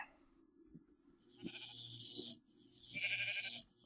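Sheep bleating in a Minecraft modpack game, two drawn-out nasal bleats in a row, fairly close and clear with no talk over them.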